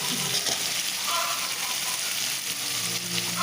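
Crab pieces with ginger garlic paste fry in a hot pan, giving a steady loud sizzle and hiss close by, with occasional stirring scrapes and no talking.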